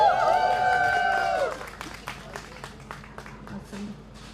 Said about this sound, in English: one more huge round of applause and some hoo-hoos to auntie and uncle